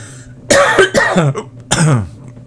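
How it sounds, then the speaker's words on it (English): A person coughs several times in quick, harsh bursts close to the microphone, with brief pauses between them, the coughing caused by medication. "these pills can make me cough"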